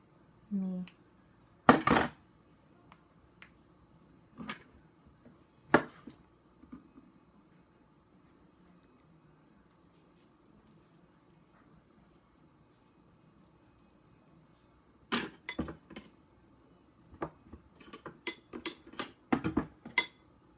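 Avocados are cut and handled in a home kitchen while making guacamole: sparse knife taps and clinks of utensils on a board or dish, isolated at first, then a quicker cluster of sharp clatters near the end.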